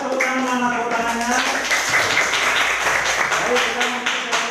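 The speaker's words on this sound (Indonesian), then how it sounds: "beri tepuk tangan untuk kelompok 3." A classroom audience at an Indonesian teacher-training lesson applauds a student group with a burst of lively clapping from many hands, after a teacher's voice at the start.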